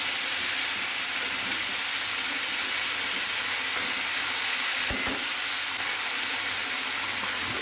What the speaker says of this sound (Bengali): এবার এগুলো আগে ভালো করে ভেজে নিচ্ছি।